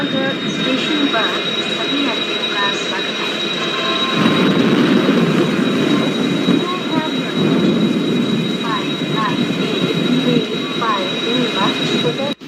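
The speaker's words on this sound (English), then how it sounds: "As we can see that we are slowly departing Chittorgarh Junction." A train departing Chittorgarh Junction rolls along steadily with a continuous rumble and a high metallic squeal from the wheels; muffled voices chatter nearby throughout.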